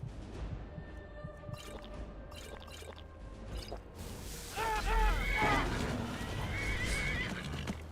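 Horses neigh and whinny during a dragon fight in the video game Skyrim, a few sharp calls rising over a busy, faint mix of game noise.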